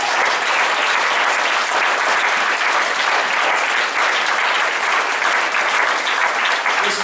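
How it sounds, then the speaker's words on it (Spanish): Congregation in a church service applauds for Jesus, a dense, steady wash of clapping that stays loud and even throughout with no pauses. "Denle un aplauso a Jesús."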